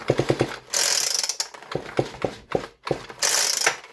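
A leaf blower's small engine is pulled over by hand against compression, giving a few uneven mechanical clicks and ratcheting catches with bursts of hiss, close and moderately loud with short pauses between pulls.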